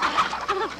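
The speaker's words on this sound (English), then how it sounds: "The chickens!" Chickens cluck and squawk close by in a short burst of several overlapping calls, with no talking.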